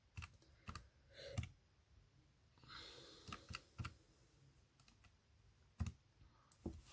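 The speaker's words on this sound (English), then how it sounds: "type this into your calculator" Button presses on a calculator come as sparse, sharp clicks, mostly single but sometimes in quick pairs, set against a quiet room with faint background noise and no speech.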